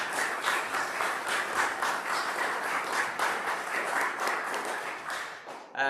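Steady applause from a crowd fills the whole stretch, dense even clapping at moderate volume that cuts off abruptly at the end.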